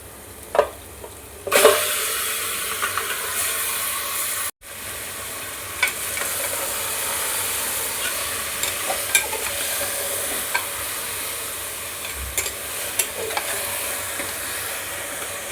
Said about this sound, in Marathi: चिकन टाकल्यानंतर सर्व मसाले आणि चिकन व्यवस्थित मिक्स करून घ्यायचे.